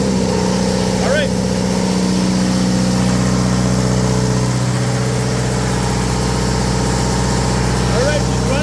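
An Onan DJC diesel generator engine runs with a loud, steady, close mechanical drone outdoors on a cool, rainy December day, with a voice speaking over it.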